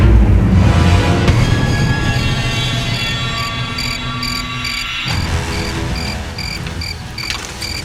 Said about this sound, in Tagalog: Ang ingay na mga kuliglig sa paligid.